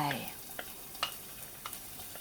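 Chili and garlic stir-fry in oil as a faint, soft sizzle, broken by a few light scraping taps of a spatula against the pan.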